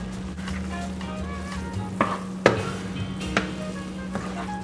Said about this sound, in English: I'm just gonna throw in my onions from earlier and fold those in the same way.